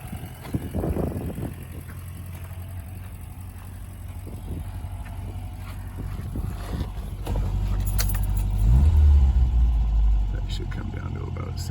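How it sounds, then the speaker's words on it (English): A 1982 Subaru BRAT 4x4 idles as it warms up, a low, steady engine rumble that rises noticeably partway through, with some light rattling nearby. "idle just jumped up there, it's getting warm"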